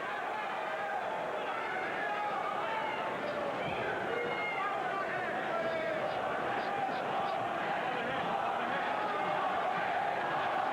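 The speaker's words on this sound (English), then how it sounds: "You can hear the crowd exhorting Paez on to better things." Crowd at a boxing arena during an IBF 135 lb title fight cheers and roars steadily under excited ringside commentary, a dense, continuous wash of voices throughout.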